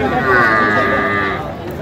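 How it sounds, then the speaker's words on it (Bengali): A five-month-old Sahiwal bull calf lets out a loud, close, drawn-out moo that holds steady for over a second before fading. "এখানে বেশ সুন্দর বাচ্চা শাহিওয়াল"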